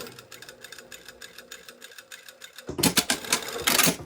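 A sewing machine stitches down a hem on a Style Arc Monty garment: a soft mechanical rattle at first, then a loud, fast burst of stitching that runs to the end.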